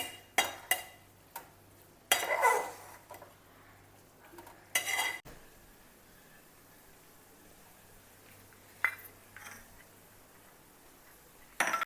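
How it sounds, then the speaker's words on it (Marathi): A semolina and dry fruit modak filling is stirred in a pan over low heat, with scattered scraping and clinking strokes of a utensil against the pan, close and separated by quiet pauses. "हे सारण आहे ना ते स्लो गॅसवर आपण पाच ते सात मिनटं मस्त शिजवून घेऊया"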